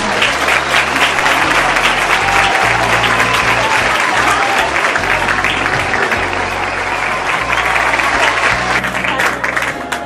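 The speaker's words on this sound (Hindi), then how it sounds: "आपकी भरपूर तालियां." Loud, continuous clapping from an audience at a Christmas play, close and dense from start to finish over a low musical hum.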